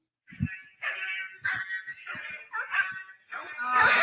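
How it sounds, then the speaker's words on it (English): A Star Wars Dog Vader birthday card plays its electronic sound chip: tinny, buzzy barks and tones in quick, uneven bursts, close to the microphone. "The dog's barking."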